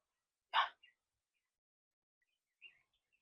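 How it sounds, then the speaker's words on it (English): A single sharp bird call, then a couple of faint distant chirps after a pause, in an otherwise quiet rural yard with large trees and a pond in Jackson, Missouri. "you can hear the birds, right?"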